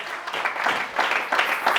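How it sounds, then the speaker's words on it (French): A church congregation bursts into loud applause during a sermon, a dense, sustained clapping that swells in waves across the room without a voice over it. "Ah, quelqu'un acclame le Seigneur ici"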